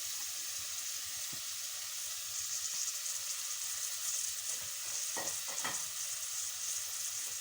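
White cumin seeds sizzling in hot oil in a pan, a steady soft crackling hiss with a few sharper pops near the end, close and quiet, no voices.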